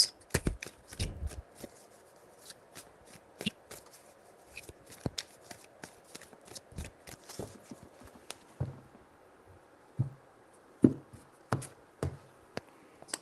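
Tarot cards being shuffled by hand, a string of quick papery riffles and taps in short bursts, close and fairly quiet, with a few sharper snaps toward the end.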